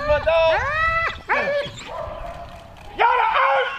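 A military working dog lets out loud, close, high-pitched yipping barks and whines during a capabilities demonstration, in quick bursts with brief pauses.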